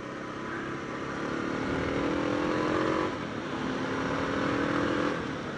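Motorcycle riding on the road, the engine droning close and continuous with rising and falling revs through gear changes, with steady wind rush and no talking.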